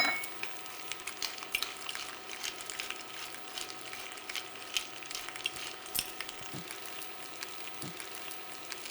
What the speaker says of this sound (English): We'll season our potatoes with a little salt and pepper, and we'll let those fry.